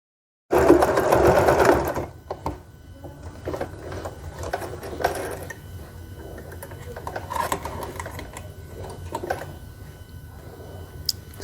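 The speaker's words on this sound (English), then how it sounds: "I'm just going to take this to my machine and sew along this line" A sewing machine stitches along a seam on a satin bonnet, opening with a loud burst of fast mechanical whirring, then settling into quieter, intermittent running with small clicks.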